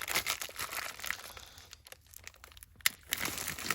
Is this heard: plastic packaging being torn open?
yes